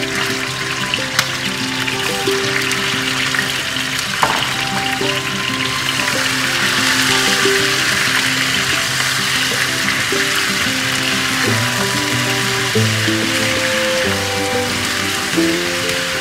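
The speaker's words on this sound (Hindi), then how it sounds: "और इसके अंदर मैं ये चिकन डाल दूँगा." Chicken for a karahi fries in hot oil with a dense, continuous sizzle and crackle, close and loud throughout, with a faint tonal background underneath.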